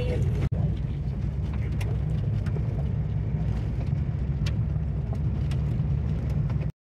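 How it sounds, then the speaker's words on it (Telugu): A bus driving along a mountain road toward Rohtang Pass, heard as a steady engine and road rumble from inside the vehicle, continuous and fairly loud. "బస్సు వెళ్తుంది."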